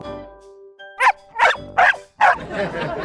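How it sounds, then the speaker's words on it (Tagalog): A dog barks four times in quick succession, fairly close, over a low background hum. "May kumakahol. May aso ba dito?"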